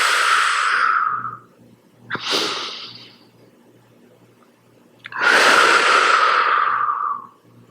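Two long breathy exhalations from a person doing postnatal beginner yoga suitable after a cesarean birth, with a shorter sharp breath between them, close and fairly loud against a quiet room.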